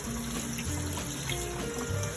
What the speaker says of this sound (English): I put it under the sink and rinse it with hot water